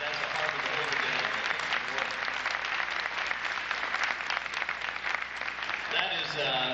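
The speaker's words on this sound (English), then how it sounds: "Please give those trumpets another round of applause" A high school audience at a 1997 Christmas band concert claps steadily for the trumpet section, with sustained, dense applause that fades near the end as a voice begins speaking.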